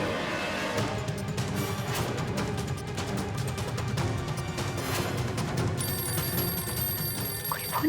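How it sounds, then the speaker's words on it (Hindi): An unanswered telephone rings continuously amid a busy, dramatic scene, its bell-like trilling layered over dense background noise and music without a break. "कोई फोन क्यों नहीं उठा रहा है?"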